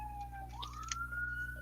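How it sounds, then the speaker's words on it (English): A distant city siren wails faintly, one slow rising tone gliding upward and holding, with a low steady hum underneath. "sorry, there's sirens."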